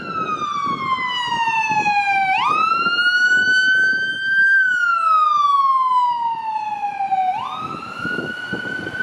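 A loud ambulance siren sweeps up and down in long wailing cycles, close by and steady, with traffic rumble underneath, on a Toronto street.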